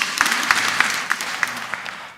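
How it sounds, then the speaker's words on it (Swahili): A church congregation at a Kikuyu service applauds with sparse, uneven hand claps, a few loud near claps standing out over a softer scattered patter that thins toward the end. "Kindly tumpigie makofi"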